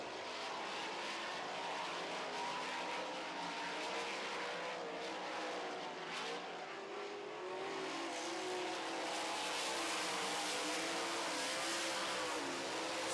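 Sprint cars roar around a dirt oval on the final lap of a heat race, several engines blending into a continuous loud, wavering howl with rising and falling pitch as they come out of turn four.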